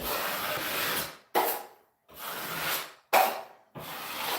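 A taping knife scrapes drywall joint compound off a wide, heavily filled joint in repeated long strokes, each a broadband rasping smear with short pauses between passes, close and fairly quiet.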